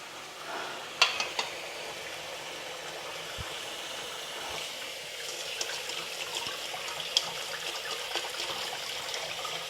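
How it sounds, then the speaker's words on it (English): Tap water runs into a kitchen sink while broccoli is washed, a steady soft rush with a few clinks and knocks of handling, fairly quiet and without talk. "So washing the broccoli now, which I am."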